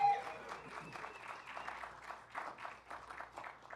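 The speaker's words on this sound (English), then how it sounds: "This is where you applaud." A cinema audience at a film screening of a 1967 comedy applauds faintly and at a distance, scattered clapping and some crowd murmur rising and falling in soft waves under a quiet room tone.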